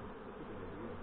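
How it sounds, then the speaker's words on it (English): Honey bees in early morning flight around hives at a fireweed honey site, a dense steady buzzing hum from many insects close by, continuous and even throughout the brief moment. "It's early in the morning, too, and there's a lot of bees are flying."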